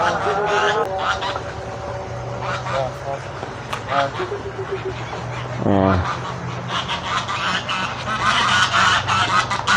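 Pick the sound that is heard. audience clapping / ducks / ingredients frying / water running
ducks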